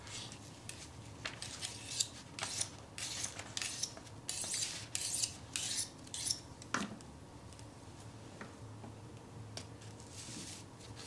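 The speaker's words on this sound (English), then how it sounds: "I know you're sharpening your knife, but it sounds maniacal" A knife being sharpened indoors during a live Ghostbusters proton pack build, giving a run of quick, scraping metallic strokes in irregular bursts, fairly faint and with no talking.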